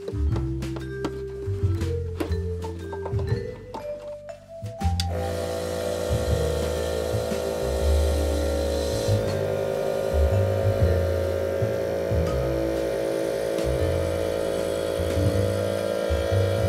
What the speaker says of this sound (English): I'm super stoked the compressor actually works.